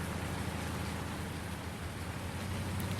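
Rain falls steadily on a rainy morning on a Pacific Northwest farm in Farming Simulator 19, a dense, unbroken hiss with a low rumble underneath and no voices.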